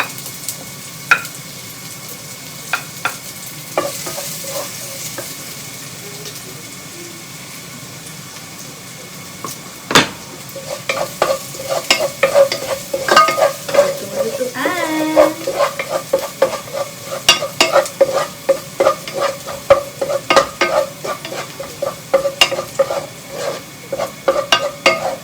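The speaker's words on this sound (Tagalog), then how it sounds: "Gisa natin ang bawang," Garlic and onion sauté in a pan for pancit, giving a soft continuous sizzle. Scraping stirs and clicks from a utensil join in, growing busier in the second half, with no talk.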